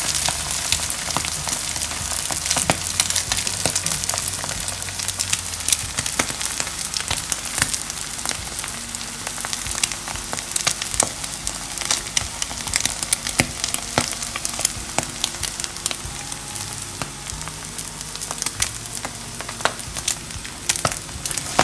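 Eggs frying in a pan with mixed vegetables, a steady dense sizzle with crackling pops throughout, close and continuous, no voices.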